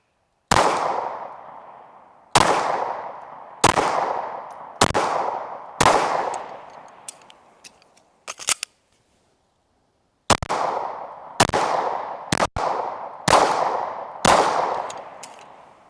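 CZ P10C pistol firing nine loud, close shots at a steady pace in two strings, each a sharp crack with a short ringing decay and a brief pause between the groups.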